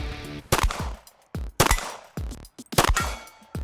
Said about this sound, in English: I run the gun dry, but luckily managed to hit all the targets.